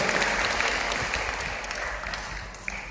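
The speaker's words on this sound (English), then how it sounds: "Can you give a big round of applause?" A crowd claps steadily, a dense wash of applause that slowly tapers off over a few seconds.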